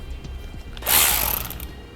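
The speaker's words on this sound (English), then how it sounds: "On the driver's side, we'll remove this plastic rivet and this screw." A tool ratchets briefly as a plastic rivet and a screw come out of the lower bumper cover of a 2014 Honda CR-V, a short close mechanical whir and click burst after faint handling noises.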